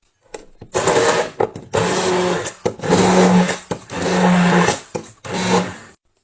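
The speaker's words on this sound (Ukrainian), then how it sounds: "Тепер це все перебуваємо блендером." A blender blending sauce whirs in five loud, close bursts of a few seconds each, with a humming motor pitch and short pauses between pulses.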